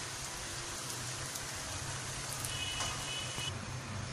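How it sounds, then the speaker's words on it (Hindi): Bread slices for shahi tukray frying in hot oil give a steady, even crackle and hiss, continuous and fairly close, with no voices over it. "इस तरह हम ये बाकी स्लाइसेस को भी फ्राई कर लेते हैं।"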